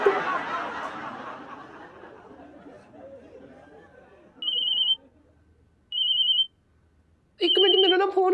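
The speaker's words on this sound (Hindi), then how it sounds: "एक मिनट मेरा ना फोन आ रहा है" A mobile phone ringtone plays in three short, loud bursts, the last a fuller melodic chime, after a stretch of fading chatter and laughter in a lively household scene.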